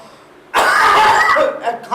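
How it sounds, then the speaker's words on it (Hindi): A loud burst of coughing, one harsh fit lasting over a second, followed by a couple of shorter trailing coughs close to the listener. "इसको लगवाएं मास्क, इसको कहीं कोरोना ना हो गया हो, खांसी आ रही है।"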